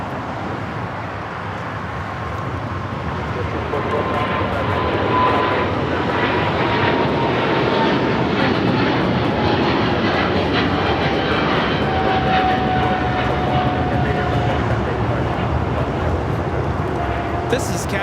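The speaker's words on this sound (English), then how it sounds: "This is Cathay Pacific A85 taking off to Hong Kong on the 777-300ER." A Cathay Pacific Boeing 777-300ER jet takes off at LAX, its loud, steady engine roar building and holding broadband for the whole stretch, with a whining tone drifting across it.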